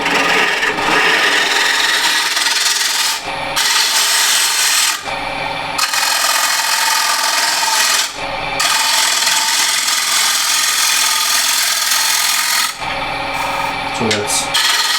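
A spindle gouge cuts a rippled ash plate spinning on a lathe, giving a steady, loud scraping rasp of tool on wood with several brief pauses between passes.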